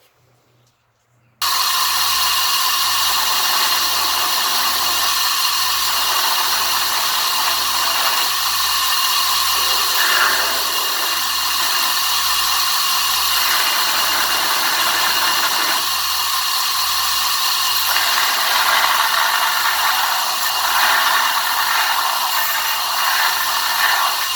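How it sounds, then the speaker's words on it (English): A grinder shapes a kydex knife sheath, starting after a brief silence and then whirring loudly and steadily for over twenty seconds with no speech. "I'm going to go over to the grinder now, and I'm going to start shaping this out"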